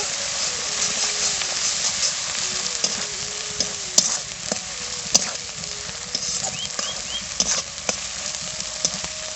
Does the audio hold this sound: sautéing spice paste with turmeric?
yes